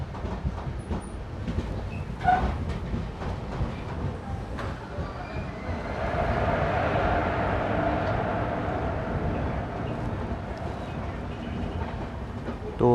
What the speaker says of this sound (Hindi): ट्रेन का रिवर्सल हो गया है और डीजल लोको भी लग गया है अब, जो कि है गूटी का WDP 4D